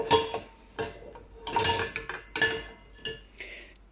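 Forks, spoons and dishes clink and clatter while freshly washed items from a dishwasher are checked by hand, a series of close, bright metallic taps and rattles in irregular bursts with no talking.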